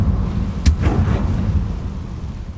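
A Confringo blasting spell detonates in a video game with a sharp, close boom. A deep, rolling rumble follows and stays loud and dense for the rest of the moment.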